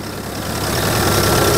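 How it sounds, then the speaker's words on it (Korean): A 2022 Volvo EC60E 5-ton excavator with an improved engine idles close by, a steady, loud diesel rumble with a dense low throb and no other sounds. "엔진 소리도 조금 더 조용하고요."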